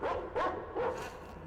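A dog in the video game Metro Exodus barks in a few sharp yelping bursts, spaced unevenly and fairly close, over a murky game background.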